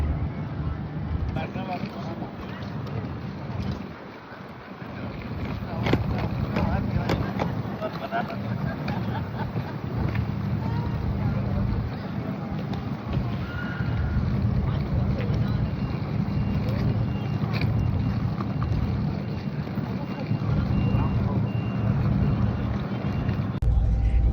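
A catamaran ferry pulls out of Çeşme harbour bound for Chios, giving a steady, loud, broadband rumble of engine, water and wind that runs throughout, with voices faintly audible underneath.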